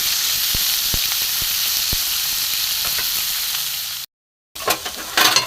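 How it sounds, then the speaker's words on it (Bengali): Potatoes sizzle steadily in hot oil in a pan for a green pea ghugni dish, a continuous frying hiss with occasional pops, then a brief cut to silence before the sizzle resumes with stirring. "আলুটা একটু ভালো করে ভেজে নেব।"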